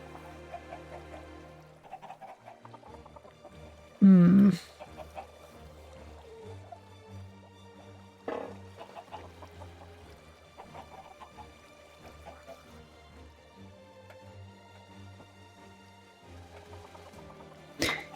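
Chickens cluck on a video game farm, a few soft, brief calls spread over a quiet, steady music-like background, with one louder burst near the start and sparse bird sounds after.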